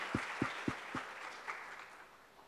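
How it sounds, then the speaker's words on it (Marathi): Church congregation at a Sunday service clapping their hands together, a few sharp, evenly spaced claps followed by softer scattered ones that fade, fairly quiet and distant. "Let's clap our hands for the glory of God."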